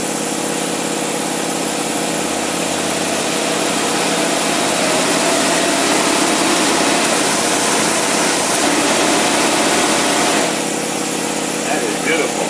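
A Buick engine under load runs hard and high against the rev limiter, a loud, sustained roar that barely wavers from start to finish.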